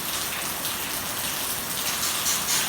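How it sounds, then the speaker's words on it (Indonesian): Heavy rain pours down steadily in a dense, unbroken hiss, loud and close, with water gushing throughout and no voices. "hujan sudah mengguyur mungkin 20 menit yang lalu"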